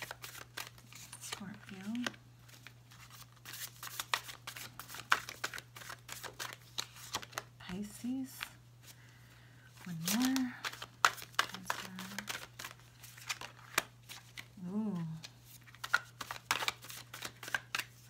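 Tarot cards being shuffled in repeated riffling bursts, close and crisp, while someone speaks softly over them with a steady low hum underneath.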